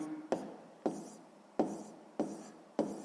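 A pen writes numbers by hand on paper in five evenly spaced scratchy strokes, each starting with a sharp tap and trailing off, close and quiet with no talking.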